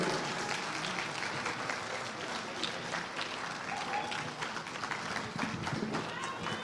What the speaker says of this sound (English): Please don't stop clapping until he gets here.